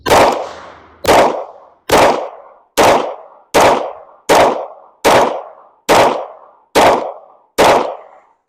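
Ten loud, sharp handgun shots at a shooting range, fired one at a time at a steady pace of about one every three-quarters of a second, each crack ringing briefly before the next.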